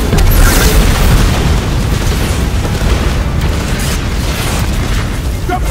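Explosions from missile strikes in the Destiny 2 video game, a continuous loud rumbling barrage of deep booms and bursts filling the whole clip with little letup.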